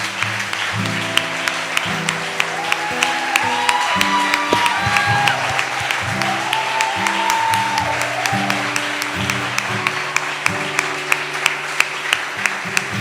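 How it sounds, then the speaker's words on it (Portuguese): An audience at a church conference in Sião claps for the staff and volunteers, a steady, fairly loud wash of hand claps running the whole time over sustained music playing underneath. "Queria que a gente desse uma salva de palmas para eles."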